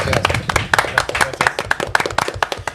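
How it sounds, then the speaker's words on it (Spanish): Several people clap briefly, quick uneven hand claps, fairly close, with a voice faintly underneath. "Un fuerte aplauso para ellos."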